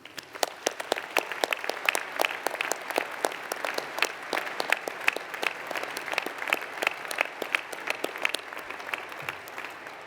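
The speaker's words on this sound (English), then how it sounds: "So perhaps we can applaud our 22" Sustained applause from a large audience for 22 PhD graduates in a cathedral at a university summer graduation, dense overlapping claps ringing steadily and evenly for the whole stretch.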